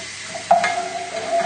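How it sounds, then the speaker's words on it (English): Spoon stirring a pan of sauce with carrots, garlic and oil sizzling on the hob, a brief scrape over a steady frying hiss at close range. "We'll just give it a little stir."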